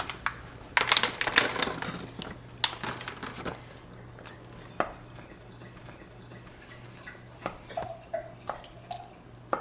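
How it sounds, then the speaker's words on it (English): Wine poured into a glass in a home kitchen while soup is being made, with short splashy pours and clinks at the start, then scattered drips and small glassy taps further off in the background. "That would be Ben pouring his wine in the background."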